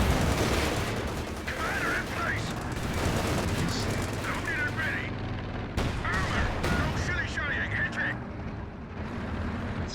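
Dense, continuous gunfire from a Company of Heroes 2 battle with a Panther tank nearby: overlapping rifle and machine-gun bursts that roll on steadily at high volume without a pause.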